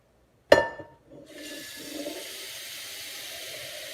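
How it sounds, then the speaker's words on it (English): Water runs from a kitchen sink faucet into a cooking pot after a sharp clank at the start, then a steady close, continuous stream with a gurgling fill. "So we're going to go over the sink, fill up this pot with some water."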